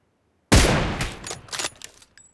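A sudden close burst of gunfire in PUBG, one sharp loud blast followed by a few quicker, fading shots, with no voices.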